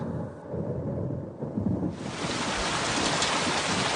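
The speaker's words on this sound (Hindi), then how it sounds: "बारिश कहाँ से आ गई?" Steady broadband rush of rain that swells louder partway through, a dense continuous downpour with a deep rumbling undertone.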